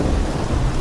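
A thunderstorm with steady rumbling thunder and rain at sea, a ship caught in a great storm; a dense, loud, continuous low roar fills the whole moment without any voices.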